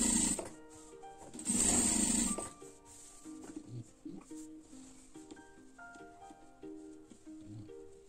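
A sewing machine stitches fabric while a stand collar is sewn, running in a loud steady burst for about a second before going quiet, with lighter clicks and handling noises afterward.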